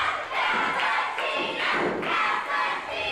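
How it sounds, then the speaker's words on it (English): A crowd at a live professional wrestling show cheers and shouts in a loud, sustained roar that swells and dips in waves, with rhythmic chanting surges and no clear single voice. "This crowd is here for it. They're feeling it, too."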